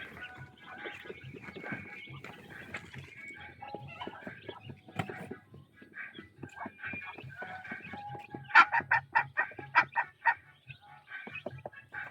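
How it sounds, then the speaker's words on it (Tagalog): Chickens cluck steadily in a busy yard, building to a run of loud rhythmic clucks near the end; no clear rooster crow stands out. "Yung mga manok natin."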